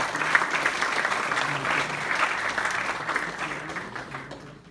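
An audience gives a sustained round of applause at a lecture, steady dense clapping from a crowd of moderate size that carries on for several seconds and then fades out toward the end.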